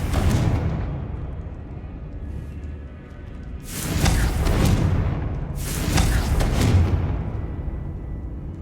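Two booming blasts from the Confringo fire spell in Hogwarts Legacy, each a loud broad burst lasting about a second, spaced roughly two seconds apart over a steady rumbling game backdrop.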